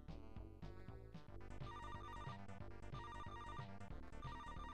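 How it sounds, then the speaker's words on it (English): A telephone rings in the Amiga platform game Alfred Chicken, repeated electronic ringing bursts layered over bouncy game music, loud and continuous, with no talking. "Hey, it's a phone."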